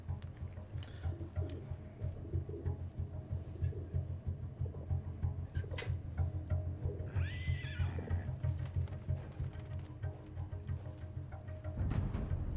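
A horse in the video game Battlefield 1 whinnies once amid a steady rhythmic clip-clop of hooves, moderately close over a low rumbling background.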